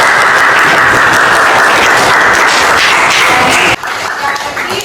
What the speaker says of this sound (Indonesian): Terima kasih dari tepuk tangan untuk Pak Pena.